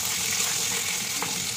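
Eggplant pieces fry in a pan with a steady, close hiss of oil that holds evenly for the whole stretch, with no talking.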